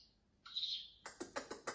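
A human voice whistles a thin bird-like tone, then gives a quick series of five sharp chirps, imitating a sparrow's call, close and fairly quiet.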